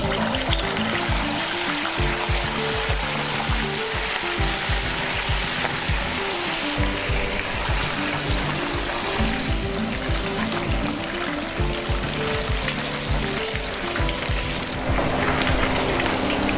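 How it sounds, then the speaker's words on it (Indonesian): Chicken pieces fry in hot oil with a dense, steady crackling sizzle, close and loud throughout with no speech. "Sekarang langsung saja kita goreng."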